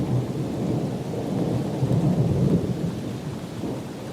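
A thunderstorm with low rolling thunder swelling and fading under steady rain, a continuous rumble that peaks midway.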